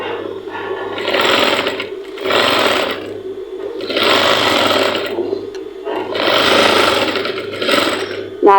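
A sewing machine stitches fabric in four or five bursts of rapid, close mechanical chatter, with short pauses between runs.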